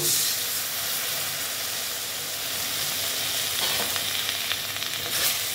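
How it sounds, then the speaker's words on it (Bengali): Kashmiri red chili powder masala with a splash of water frying in a pan for a Bengali aloo dum, a loud, steady sizzle and hiss with occasional stirring scrapes and no talk. "এইবার আমি মশলাটাকে ভালো মতন কষিয়ে নেব"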